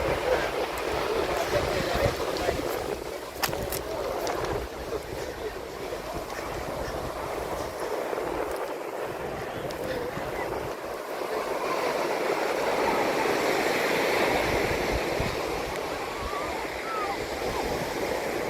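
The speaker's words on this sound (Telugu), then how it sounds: "ఈ బీచ్ ఓడలరేవు బీచ్ అంటారు" Surf at Odalarevu beach near Amalapuram, a continuous broad wash of waves rolling in steadily throughout, with faint crowd voices mixed in.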